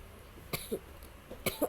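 Two short, sharp coughs close to the mic, about a second apart, in an otherwise quiet room.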